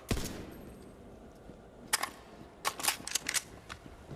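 Scattered gunshots and short bursts of fire crack from a distance in Tiny Tina's Wonderlands, moderately loud and irregular, over low game ambience.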